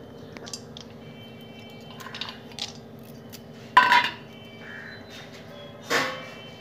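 Pasta being stirred in milk in a pot for a sweet pasta payesh, with a few soft, scattered clinks and scrapes of the utensil against the pot over a quiet, steady background hum.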